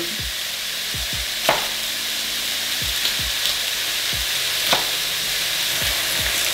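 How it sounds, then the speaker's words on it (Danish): Chicken fries in a hot wok with a continuous loud sizzle, broken by a few sharp scraping strokes of stirring spread through the clip, and no talk. "Mens kyllingen lige bliver stegt"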